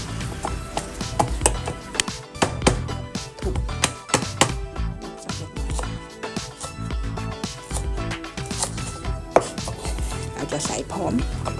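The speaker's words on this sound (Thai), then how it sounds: "ต่อไปเราก็จะมาหั่นต้นหอมค่ะ" Rapid knife chopping of green onions on a cutting board, dense irregular thuds and taps continuing throughout, close and clear with no talking.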